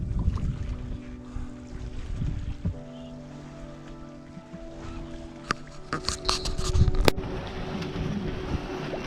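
A sailboat moves along open water with a low, steady rush of water and hull noise, broken by wind buffeting and scattered sharp creaks and knocks from the rigging, growing rougher toward the end.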